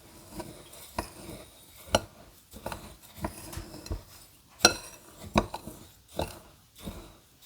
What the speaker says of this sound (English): I'm going to add the flour and my oats. And I'm just going to mix that really well together